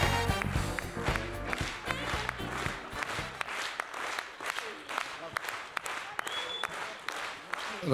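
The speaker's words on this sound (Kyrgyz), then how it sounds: "сиздердин шаңдуу кол чабыңыздар менен Рахман Разыков агайыбызды шаңдуу тосуп алыңыздар" An audience bursts into applause to welcome a satirist onto a stage at a comedy evening, giving dense, sustained clapping with sharp individual claps standing out, loud and close, with a voice speaking over the start.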